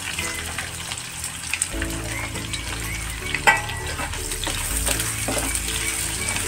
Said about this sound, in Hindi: प्याज तब तक भून लेंगे जब तक हल्का ब्राउन कलर नहीं हो जाता है